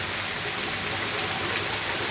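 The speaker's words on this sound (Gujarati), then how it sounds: "જોરદાર વરસાદની સાથે સાથે પવન પણ ઘૂઘવાટી બોલાવે છે" Heavy monsoon rain in Mota Mandva, Gujarat, with gusting wind and hail, pouring as a dense, steady broadband hiss that holds evenly for the whole stretch, with no talking.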